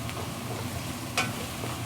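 Fresh coriander being stirred into a sizzling curry in a restaurant kitchen, with a steady frying hiss, soft scraping of the stir, and one brighter clink partway through.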